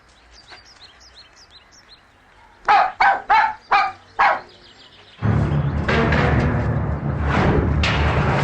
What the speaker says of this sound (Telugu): ఎవరిదమ్మాయి కుక్క పిల్ల రోడ్డు మీద వేశారు?